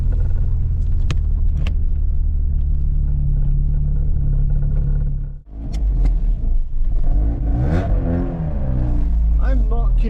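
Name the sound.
Nova 1.6 car engine running on its first run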